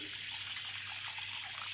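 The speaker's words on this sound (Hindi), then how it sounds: "तो मैं अब ये सिरके वाला पानी जो है ये करेले समेत इसके मैं इसके अंदर छन्नी के अंदर डाल दूँगी।" Vinegar water carrying bitter gourd pours steadily into a strainer, a continuous close splashing rush of liquid with no break and no talk.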